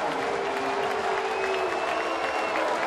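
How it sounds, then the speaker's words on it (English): A large crowd applauds and cheers at a Cincinnati-at-Pittsburgh baseball game in a dense, unbroken roar of clapping, with a voice talking faintly over it. "Clinton will get a big round of applause for sticking up for his player."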